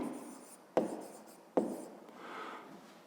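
A pen writes on paper during a math exercise, scratching strokes close by with two sharp taps on the page between the scribbles, then a softer rubbing stroke at the end.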